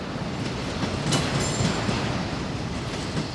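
A train runs along the Norte-Sul railway in Brazil, a steady loud rumble of wheels on track with faint clickety-clack and a slight squeal, constant throughout with no voices.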